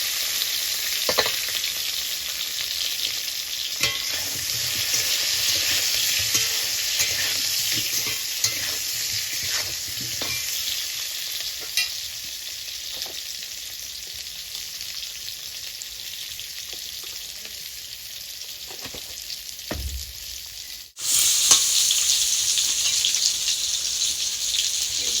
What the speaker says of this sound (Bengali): বেগুনটা ভাজবো, উচ্ছেটা সবাই লাস্টে ভাজবে